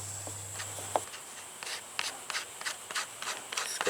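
A screwdriver scrapes steel epoxy and hardener while mixing for a VR6 engine part repair, producing a string of close, soft rasping strokes in an uneven rhythm, with a brief low hum at the start and no speech.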